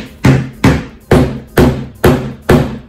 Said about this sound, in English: I gotta install my molly bolts.